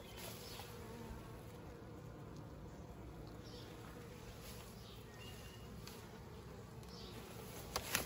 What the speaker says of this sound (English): Well, we're loaded with bees.